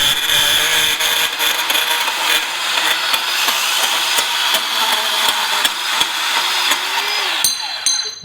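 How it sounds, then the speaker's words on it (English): Handheld bandsaw slicing through steel square tubing, a continuous loud, close metallic whine and grind with rattling ticks, winding down near the end as the cut finishes. "cut straight through that steel with this, again, handheld bandsaw"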